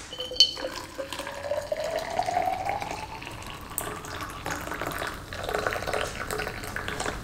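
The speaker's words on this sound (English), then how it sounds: "you fill the water to the bottom of that line" Water poured into a Wacaco Pipamoka portable coffee maker, a thin steady trickle whose pitch rises as the chamber fills, close and fairly quiet, with no talking.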